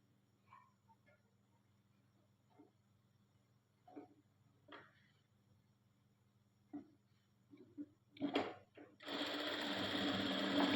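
A sewing machine stitches a white fabric piece onto another to join them: soft, sparse handling clicks give way to a loud, steady mechanical whir that runs through the final two seconds.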